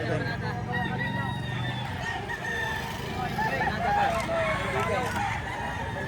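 A rooster crows on a farm in Taal, Batangas, its call rising over steady background noise and low rumble, with faint voices nearby.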